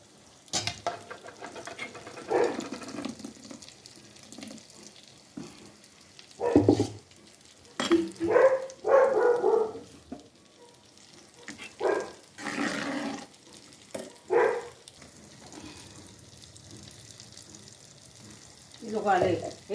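Ground masala frying in a pan for an oyster and potato curry, soft sizzling with intermittent stirring scrapes and clatters, close by, with speech at times.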